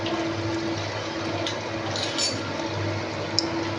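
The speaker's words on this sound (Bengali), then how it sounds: "এবার গ্রেভি করার জন্য আমি এতে সামান্য পরিমাণে জল দেবো।" Water pours into a pan of chilli chicken to make the gravy, a steady close wash of liquid over the sizzling pan with a light clink near the end.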